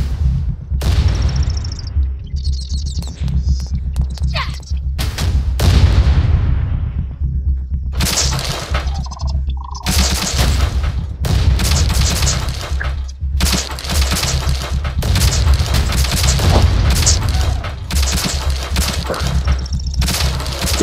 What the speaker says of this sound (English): Okay, the mortar also working.